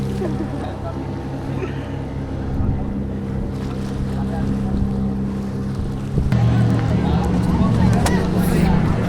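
A boat carries passengers to Sindhudurg Fort, its engine droning loud and steady under wind buffeting and splashing water, and the engine note rises near the end while people talk.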